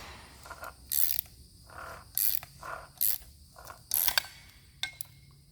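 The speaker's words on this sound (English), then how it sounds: "we're gonna put that ratcheting socket wrench on there and slide the crescent onto the top and tighten her down" A ratcheting socket wrench tightens a coilover nut on a Miata's TEIN Street Basis Z coilovers, giving quick metallic clicking bursts in an uneven rhythm of about five or six strokes with short pauses between, fairly close and quiet.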